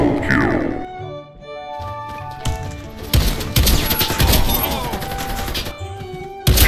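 Gunfire in the shooter game Warface during a tournament match, with bursts of rapid automatic fire and impacts that grow dense and loud in the second half.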